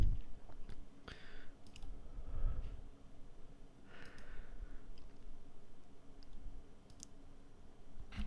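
Computer mouse clicks tick in a small room, a handful of sharp faint taps spaced irregularly over low background hum and room noise.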